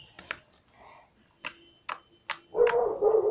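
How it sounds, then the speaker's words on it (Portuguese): A dog barks indoors in several short, sharp yaps spaced about half a second apart, followed by a longer burst of barking at the end, fairly close and loud against a quiet room. "Meu cachorro latindo."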